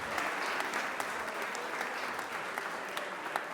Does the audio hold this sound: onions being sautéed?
no